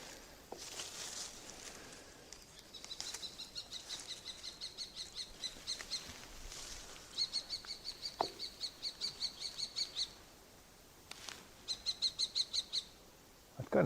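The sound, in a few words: hawk call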